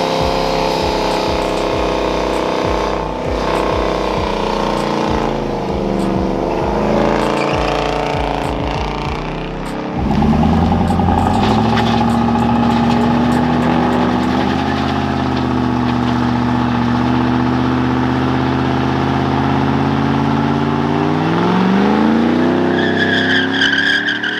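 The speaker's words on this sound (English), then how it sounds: "they are already spinning it out there" Cars spin out on a Tulsa street during a Sunday takeover, engines revving and rising in pitch with tire noise, loud and close throughout with a sustained drone.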